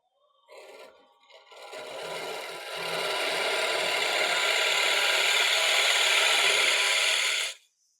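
Steady, continuous rasping of a hand tool shaving soft wood, starting with a few short strokes and then grinding on for several seconds, close up.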